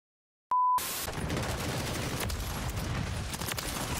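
Rapid, dense gunfire from a Call of Duty Modern Warfare match, beginning after a short beep and continuing as overlapping loud shots and booms through the rest of the moment.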